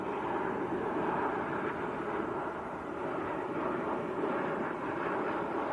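An Airbus A220 arriving from Paris at Manchester Airport gives a steady, moderately loud jet rumble that holds evenly throughout, heard from some distance with no voices.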